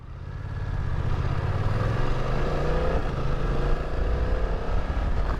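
A 2020 BMW F900XR motorcycle with an SC Project exhaust revs up loudly and close, pitch rising and settling into a strong sustained drone with no voices.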